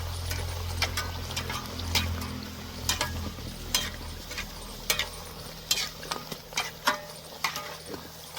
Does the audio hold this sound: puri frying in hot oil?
yes